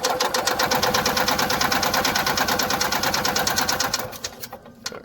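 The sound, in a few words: engine being started by pushing the throttle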